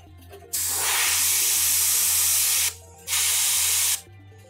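An airbrush sprays paint onto a miniature model's armor, making close, loud bursts of airy hiss: one long spray, a short pause, then a second shorter burst, with no talking.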